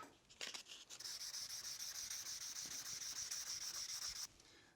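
Steady back-and-forth rubbing of 600-grit sandpaper on aluminum door trim corners, lubricated with WD-40, a close continuous hiss of strokes lasting several seconds after a few short starting passes.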